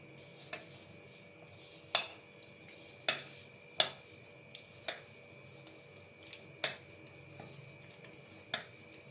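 A spoon stirs grated potato and water chestnut flour in a bowl, giving faint, irregular clicks and taps against the vessel over a quiet background.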